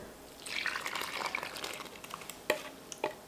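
Water poured into sourdough starter for ciabatta dough, a short splashing pour up close followed by a few wet drips and clinks.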